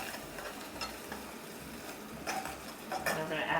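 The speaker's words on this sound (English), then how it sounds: "So take a pretty large pinch of kosher salt, and just put that in there twice. And stir that around." A spoon scrapes and clinks around a pan as salt is stirred into a sauce, over a soft sizzle, close up and steady, with a few sharper clinks near the end.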